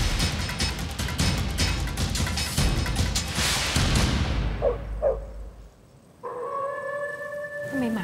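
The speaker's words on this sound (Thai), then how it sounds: "ทำไมหมาต้องมาหอนตอนนี้ด้วยเนี่ย" A dog howls in long drawn-out wails, first buried under a loud, broad noisy wash and then ringing out clearer and steadier near the end.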